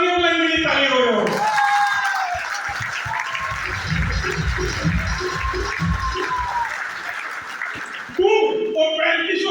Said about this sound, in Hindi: एक बार अपनी अपलाइन के लिए ताली हो जाओ